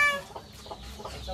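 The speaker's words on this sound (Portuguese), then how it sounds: "As galinhas fogem tudo" Backyard chickens cluck in a short run of four or five clipped, evenly spaced calls. They sound moderately close and carry over a quiet outdoor background with no talk.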